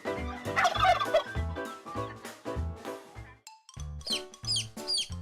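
A turkey gobbles in rapid, rattling bursts close by, repeated several times with short pauses between them, with a few higher-pitched calls near the end.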